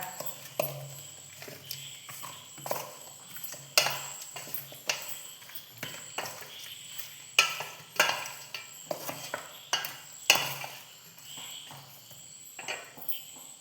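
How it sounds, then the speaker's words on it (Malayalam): Chicken pieces mixed with salt and masala powder in a bowl give repeated soft wet squelches and scrapes in an uneven rhythm, close and fairly quiet, with faint background hiss. "ഇനി ഇത് നന്നായിട്ടൊന്ന് മിക്സ് ചെയ്തെടുക്കാം"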